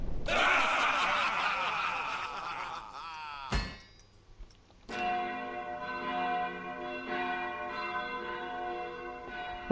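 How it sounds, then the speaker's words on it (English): Church bell ringing sound effect in the Planet Coaster 2 video game: a sustained, resonant metallic bell tone rings out with lingering overtones after a noisy, clattering stretch and a sharp strike. "That'd be good for our chapel, to have like a church bell ringing once a..."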